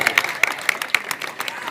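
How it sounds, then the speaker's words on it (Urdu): Guests at a commemorative evening gathering clap during an honouring with a shawl, several sharp distinct claps rising out of a mixed crowd noise, with voices audible alongside. "محبت زوردار تالیاں ہونی چاہیے"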